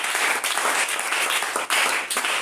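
Congregation in a church breaking into sustained applause, dense clapping from many hands continuing throughout with a brief dip midway.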